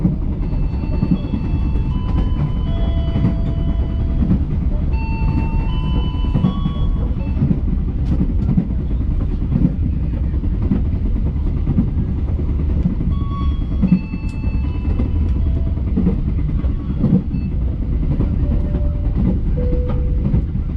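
Airlangga passenger train running from Pasar Senen to Tegal, with a loud, continuous rumble of wheels and carriage noise heard from inside, punctuated by faint squeals and clatter throughout.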